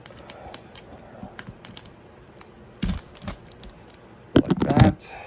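Packaging on a Kiss Dynasty Tour boxset being cut open, with faint scratching and ticking and two louder rustling tears, quiet and close.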